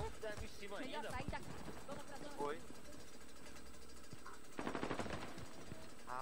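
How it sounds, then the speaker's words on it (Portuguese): Rapid video game gunfire crackles in bursts during an online shooter match near a prison, an opening flurry and a later burst, with players talking over the shots. "O cara tá atirando já aí na gente."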